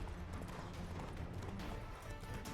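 Hooves clip-clop rapidly as a horse gallops in The Witcher 3, a quick steady rhythm of quiet thuds under faint game ambience.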